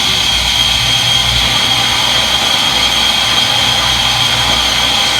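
Front-load washing machine in its spin before the rinse, a steady loud whirring drone with a constant high whine over a low rumble, running evenly throughout with no voices.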